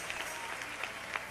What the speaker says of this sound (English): All right, let's clap for them now.